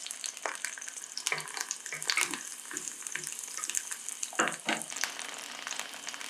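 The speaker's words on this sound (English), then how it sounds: "Getting a nice sizzle on that garlic in the back." Chopped garlic sizzles and crackles in hot oil in a frying pan, a steady frying hiss broken by intermittent sharper pops and stirring clatter.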